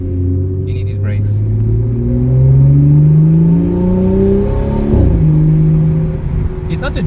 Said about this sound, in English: I just floored it and I was accelerating faster than the speed limit probably